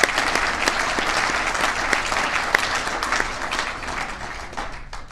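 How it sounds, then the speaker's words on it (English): Audience applause fills a squash hall of fame induction ceremony in Ontario, a steady dense clapping from a full room that holds for about five seconds before thinning slightly at the end. "Can I get a round of applause for them?"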